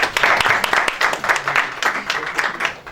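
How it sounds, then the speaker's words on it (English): Audience applause closing a panel discussion at a financial planning seminar, steady clapping from a room of people with some voices audible in the mix. "One more round of applause."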